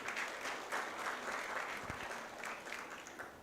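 Applause from a conference audience, a steady fairly quiet wash of many hands clapping that holds throughout with a slight fade toward the end and a few thumps beneath.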